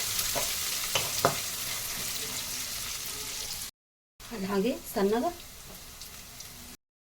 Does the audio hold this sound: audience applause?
no